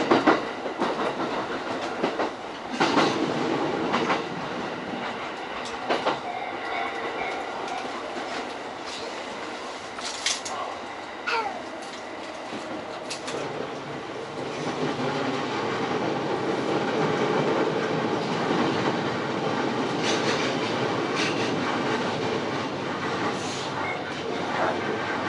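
A Narita Line train runs from Abiko toward Narita, its wheels clattering over the rails with a steady rumble and occasional clicks that build slightly in intensity, heard from the front of the train.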